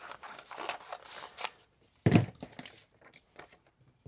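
Scissors trim leather for an axe sheath, a series of close crisp snips and cuts with one louder thunking cut midway, alone without talk.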